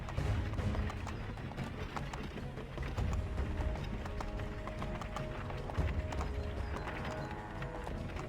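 A horse gallops in the video game Assassin's Creed III, a steady run of hoofbeats under a busy, noisy game soundscape.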